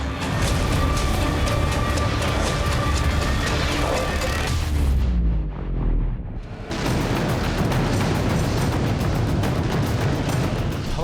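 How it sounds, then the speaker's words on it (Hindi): Heavy explosions and blasts roar loudly and continuously, with crackling bursts, a brief deep rumbling lull, then more dense booming. "धमाके पर धमाका"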